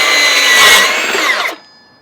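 A Milwaukee M18 FUEL 8-inch cordless metal cutting circular saw rips fast through metal, giving a loud, sustained high-pitched whine and grinding screech for about a second and a half before cutting off abruptly as the blade spins down.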